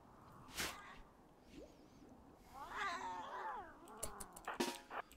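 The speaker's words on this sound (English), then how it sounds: "And they're Persian cats, too." Persian cats in the video game Rimworld give several short, sliding meows and a drawn-out caterwauling yowl, fairly close and clear over a quiet background, with no talking.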